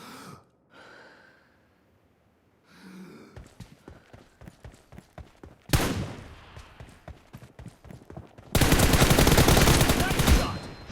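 Gunfire in the battle game PUBG, during a one-on-one team deathmatch: scattered sharp shots build into rapid bursts, ending in a loud, sustained volley.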